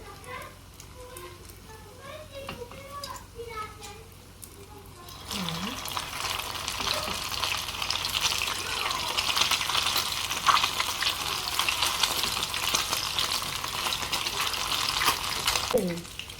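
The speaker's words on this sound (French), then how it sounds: "dans une poêle avec l'huile bien chaude, on va mettre nos cigares" Tuna brik cigars frying in hot oil in a pan, a steady broad sizzle that starts abruptly and holds loud to the end, with a brief voice near the start.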